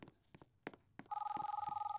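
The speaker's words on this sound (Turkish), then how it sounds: "Allah'ım gene telefon çalıyor." A telephone rings in the Roblox game Brookhaven, a steady fast electronic trill starting after a few light clicks and taps and continuing to the end, fairly faint.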